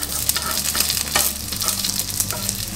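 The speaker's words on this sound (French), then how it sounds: "on va mettre nos petits gyoza du coup dans notre petite poêle. Je les fais dorer juste sur une face." Gyoza browning on one side in a small frying pan give off a steady, close sizzle with crackling spatters throughout, and no voices are heard.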